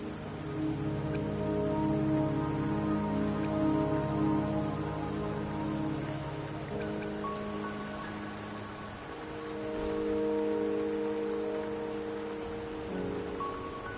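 Rain falls steadily in the fantasy video game Wuthering Waves, a soft, even patter heard alongside sustained melodic game music tones throughout, with no voices.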